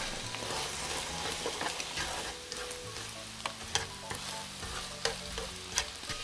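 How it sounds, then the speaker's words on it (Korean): Tteokbokki rice cakes and beaten egg sizzle and fry in hot oil in a pan while being stirred, with steady crackling and scraping stir noises throughout, close and continuous. "이제 골고루 섞어주면 끝."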